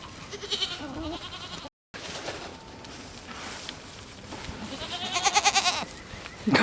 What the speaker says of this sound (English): I think we have to feed the goats now